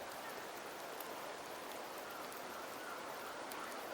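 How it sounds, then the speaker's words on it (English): Steady rain falls in the video game Wuthering Waves, a dense continuous hiss of drops at even loudness throughout, with no voices. "The rains in Septimont never seem eager to leave this season."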